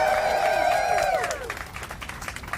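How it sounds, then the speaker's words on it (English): Applause and cheering from a crowd at a San Antonio nonprofit leaders' event, with a loud whoop at the start fading into scattered clapping. "Round of applause."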